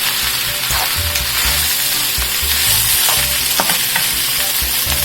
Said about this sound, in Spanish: Y seguimos aquí mezclando los ingredientes para que se dore nuestra piña también un poco.